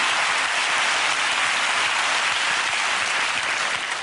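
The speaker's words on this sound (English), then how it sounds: "That applause means something." A studio audience at a British chat show claps loudly and continuously, a thick wash of applause that holds steady and close throughout with no voices over it.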